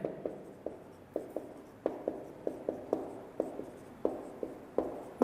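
Chalk tapping and scraping on a board as maths is written out in a lecture, a steady series of short sharp knocks spaced irregularly, close and fairly quiet with no talking.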